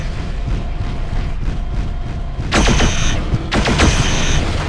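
A mech blowing up in MechWarrior 4, heard as two loud crackling explosive bursts with metallic clanks that follow a stretch of low rumbling engine hum.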